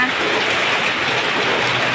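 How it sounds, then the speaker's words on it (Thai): Heavy rain pours down steadily and loudly as a dense, unbroken hiss close by, with no pauses over the whole stretch. "ฝนตกแล้วฝนฉ่ำนะ"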